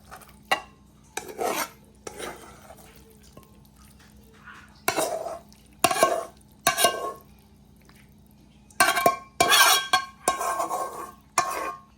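Tofu and bok choy stir-fried in a pan, with intermittent scraping and rasping strokes of a spatula against the metal, each lasting about a second, repeated across the clip with quiet gaps between.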